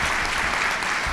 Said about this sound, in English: Let's give Dr. Eskew a big round of applause